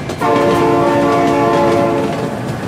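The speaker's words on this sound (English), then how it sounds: "Oh my god, train!" Train in the BeamNG.Drive driving game sounding a loud, sustained chord-like horn for about two seconds over rumbling rail noise, very close and dominant, no talk.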